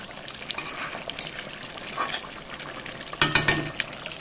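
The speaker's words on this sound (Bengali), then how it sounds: "মটনটাও বসিয়ে দিয়েছি কষানো চলছে" Mutton being sautéed in a pan, with a soft, steady frying hiss broken by scattered scrapes and a cluster of louder clanks of a utensil against the metal near the end.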